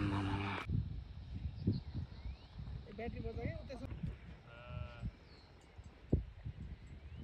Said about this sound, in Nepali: पुरै भेडा पानीमा चढिरहेको